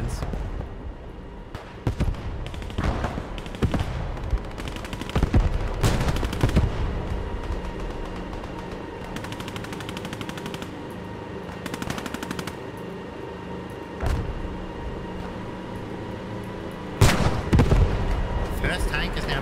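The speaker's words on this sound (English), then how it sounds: "Plenty of explosions." Battlefield combat in the video game Squad 44 during a 1940 armoured French assault on the Maginot Line: rapid machine-gun bursts, scattered rifle shots and heavy explosions crack and rumble throughout, some near and loud, others more distant.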